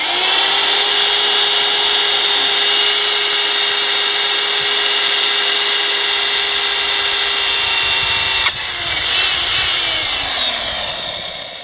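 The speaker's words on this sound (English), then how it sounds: "I'm going to drill a pilot hole for the hole saw." A power drill whines at a steady high pitch for several seconds drilling a pilot hole for a hole saw, then the motor cuts off and winds down.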